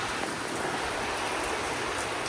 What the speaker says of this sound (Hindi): विकराल रूप लेती हुई बारिश गाइस।